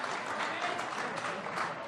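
Spectators applaud as a rugby prop walks off the field during a Hamilton Hawks versus Southern Beaches club match, a steady smattering of clapping heard from a distance with a faint murmur of crowd beneath.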